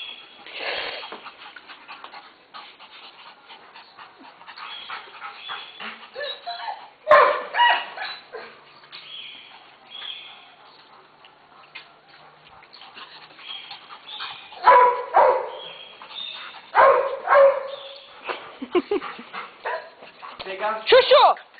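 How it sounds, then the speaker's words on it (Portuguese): A dog barks, yips and pants in short bursts with quiet pauses between, fairly close, while people talk over it. "cachorra atormentada"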